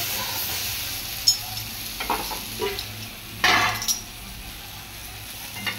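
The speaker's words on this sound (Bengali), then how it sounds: "দেখুন পোস্ত দিয়ে বেগুন আলু বিনস ভাজা হয়ে গেল" Eggplant, potato and beans frying with poppy seeds in a pan give a steady soft sizzle, with occasional stirring scrapes and brief louder bursts of spatter.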